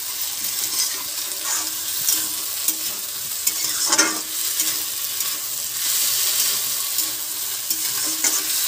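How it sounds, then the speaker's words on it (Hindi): Green peas and potato cooking in a pan make a continuous close sizzle with repeated stirring scrapes and clatters throughout, loud and unaccompanied by speech. "मटर को भी मैं थोड़ा देर पका लूंगी।"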